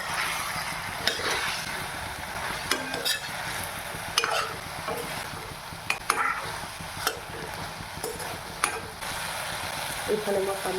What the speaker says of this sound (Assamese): এতিয়া মই ইয়াত মাছ দি দিম।